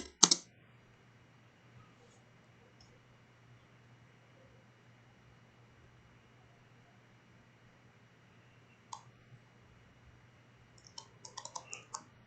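Keys on a computer keyboard are tapped in a quiet room, a sharp burst at the start, then a few isolated clicks and a quick flurry of presses near the end over a faint steady hum.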